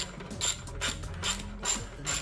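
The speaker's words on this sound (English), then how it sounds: "Once you get them started, go ahead and just tighten them down in there." A ratchet tightening the brake caliper bolts on a 2006 Royal Star Tour Deluxe motorcycle makes close, rhythmic bursts of clicking, four or five strokes in a row, with no talk.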